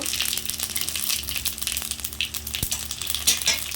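Five-spice and cumin seeds sizzle and crackle steadily in hot oil after potatoes are fried, a constant close frying hiss with small pops and a few stirring clicks.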